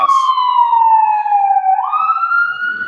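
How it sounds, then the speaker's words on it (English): A fire truck siren sounds loud and close throughout, a steady wailing tone gliding slowly downward and then rising again as the truck passes, with faint traffic beneath it. "It's actually a fire truck."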